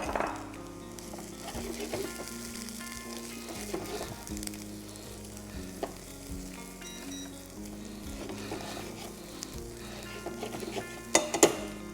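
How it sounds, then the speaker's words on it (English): Onion and garlic stirred in a hot pan, a steady close sizzle of frying with occasional scrapes and clinks of a utensil against the pan, louder knocks near the end. "just stir it so the rawness of that onion and garlic should go"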